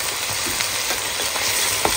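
Small pieces of chicken breast and shrimp stir-frying in a pan, a constant hissing sizzle up close with light stirring scrapes across two seconds.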